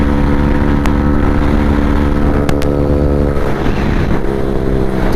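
Hero Xtreme 125R and TVS Raider 125 motorcycles in a full-throttle drag race, loud sustained engine drone at high revs, steady and close throughout.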